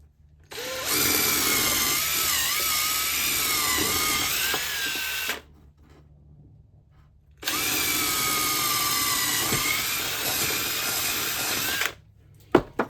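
A power drill whines loudly in two long bursts of about five seconds each, separated by a short pause, followed by a couple of sharp clicks.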